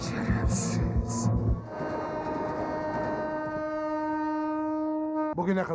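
A train sounds a long, loud, steady horn with sustained tonal blasts as it rolls past close by, with dramatic scene noise at the start and a sharp cut at the end; shouting is heard briefly early on.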